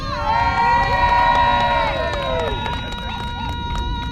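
Large crowd at a public rally cheering and shouting, a dense roar of many voices with whistles and yells, swelling loud then easing into lively hubbub.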